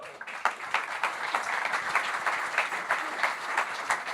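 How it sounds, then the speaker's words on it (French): An audience at a French talk on technology for elderly care bursts into steady applause, a dense continuous patter of many hands clapping at a moderate distance, with no voices over it. "On peut applaudir quand même."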